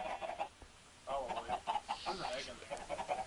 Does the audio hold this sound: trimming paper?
no